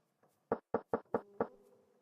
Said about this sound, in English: Knock at door.